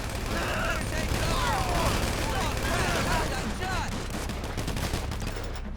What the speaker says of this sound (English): from the gunshots, they have seen you.